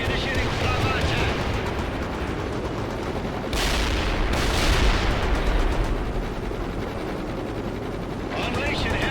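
Heavy gunship flyby attack in World in Conflict: sustained rattling automatic gunfire and rumbling engine roar with a loud surge midway, under radio-style voice chatter.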